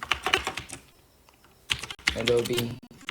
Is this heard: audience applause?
no